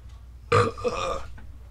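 A single loud, close burp erupts abruptly and then trails off in a rough, voiced croak lasting under a second, set against a quiet room.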